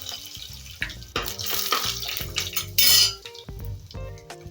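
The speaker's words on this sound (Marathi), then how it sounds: "दोन चमचे शेंगा तेल वापरायचं आहे लसूण टाकूया याच्यामध्ये" Garlic goes into two spoons of peanut oil in a wide pan, with close metallic clinks and taps of a utensil and a short burst of sizzling hiss partway through.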